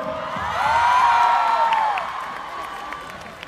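A large concert crowd in a stadium cheers and applauds, a broad roar with whistles and whoops swelling then easing away in the distance.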